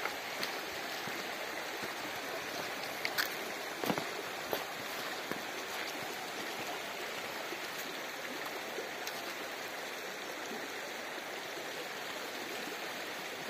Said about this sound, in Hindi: इधर नीचे नदी जा रही है